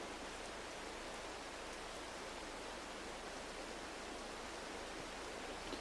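Steady rain pours outdoors in a forest, a constant even hiss of drops with no breaks, soft and distant in level, with no voices over it.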